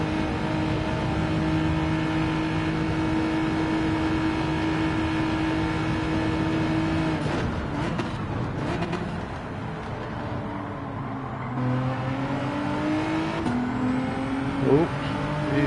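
A race car in Gran Turismo 7 held at full throttle, its engine droning loud and steady with sustained revving, then shifting pitch as gears change through the second half.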